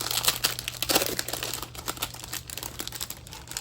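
A diamond painting canvas package is unwrapped up close, with dense crinkling and crumpling plastic in quick irregular bursts that continue throughout.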